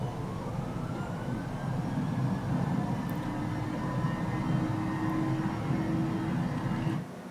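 Airliner jet engines spooling up to takeoff thrust, a loud steady roar with a rising whine that holds through the takeoff roll and cuts off sharply at the end.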